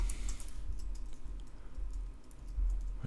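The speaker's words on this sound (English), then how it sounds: "I can see what I'm typing." Someone types on a computer keyboard while coding a web landing page, producing a steady, quiet patter of close key clicks with no talking.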